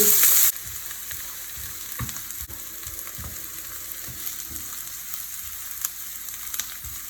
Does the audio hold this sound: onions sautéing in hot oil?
yes